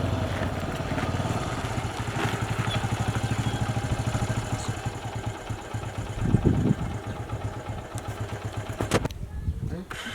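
A motorcycle engine idles with a steady low chugging pulse during a police roadside stop, close and fairly loud, while people talk over it.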